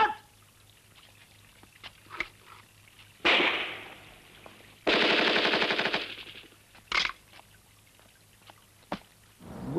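Automatic gunfire on a film set, with two long rattling bursts of rapid shots and a few scattered single cracks in between, loud and close against quiet surroundings.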